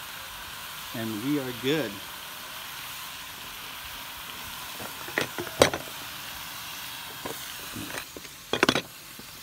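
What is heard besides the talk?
steak sizzling on flat top griddle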